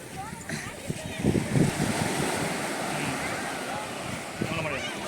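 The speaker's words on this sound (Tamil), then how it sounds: "இங்கே வந்து அலை ரொம்ப வருது" Ocean waves roll and crash on Mookkaiyur beach in a continuous washing roar mixed with gusty wind buffeting the microphone, a few louder surges standing out and no voices.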